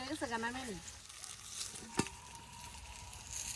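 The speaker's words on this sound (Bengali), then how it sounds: "এই যে মাছ ভাজি" Fish fries in a pan with a low, steady sizzle, a brief tonal whine at the start and a single sharp clink partway through, fairly quiet and close.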